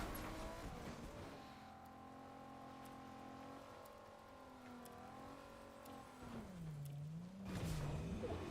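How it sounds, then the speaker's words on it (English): A faint Cybertruck engine in Fortnite hums steadily, its pitch dipping and rising as it revs, with soft clicks and a rougher burst near the end. "I hear a Cybertruck."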